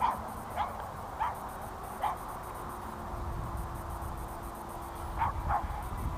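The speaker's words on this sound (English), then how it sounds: "Oh, it's a little puppy." A small puppy giving a few short, faint yips and whimpers at irregular intervals over a low background hum.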